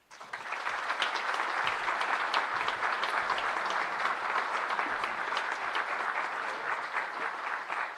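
An audience applauds Hall of Fame inductees at an induction ceremony, steady dense clapping at moderate level that swells in quickly and holds for about eight seconds.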